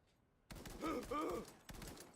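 Rapid 7.62 rifle bursts from the video game Cyberpunk 2077, a dense run of shots followed by a second short burst, loud and punchy with game sound layered around the fire.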